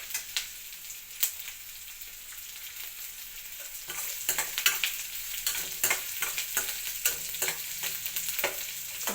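Chopped onions sizzle in oil with tempering seeds for ridge gourd curry, a continuous close hiss punctuated by repeated scraping stirs that grow busier and more frequent toward the end.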